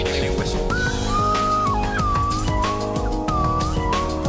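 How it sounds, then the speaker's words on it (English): A slide whistle swoops and wobbles up and down over busy, full instrumental music. "That's what they call a slide whistle."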